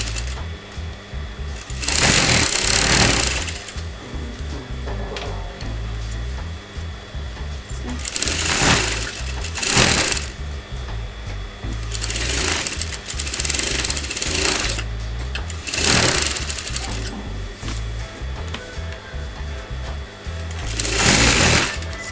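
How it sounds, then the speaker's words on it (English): Steady whirring of a sewing machine joins the front and back pieces of a kameez dress and its lining, with several louder surges as the stitching speeds up. "Just sew all around the corners of the dress."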